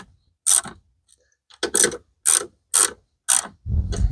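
A hand ratchet tightens coarse-thread throttle body bolts on a 2020 Jeep Grand Cherokee, giving five or six sharp, separate clicking bursts spaced by short pauses, close and clear, ending with a low clunk.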